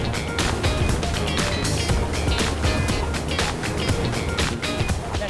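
A Bertram 54 motor yacht carves a hard turn at sea, giving a loud, unbroken roar of engines, rushing water and wind that holds steady throughout with no talking.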